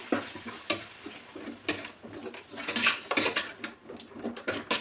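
Yogurt stirred into prawn pulao in a pot, a spoon scraping and knocking against the metal in close, uneven strokes with a soft sizzle underneath. No one speaks.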